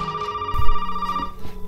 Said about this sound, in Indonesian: Ada telepon lagi.